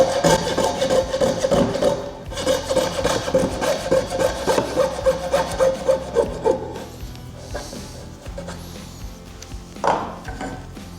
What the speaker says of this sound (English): you're just gonna have to hog it out with a coping saw.